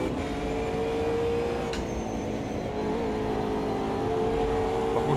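Porsche race car engines in the Automobilista 2 racing game drone steadily at high pitch, a continuous loud whine with slight shifts in tone as the cars run.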